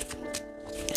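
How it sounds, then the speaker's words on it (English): Oracle cards being shuffled by hand during a tarot-style reading, a soft papery riffling and flicking that rises and falls in short bursts over a quiet room. "those are good and shuffled"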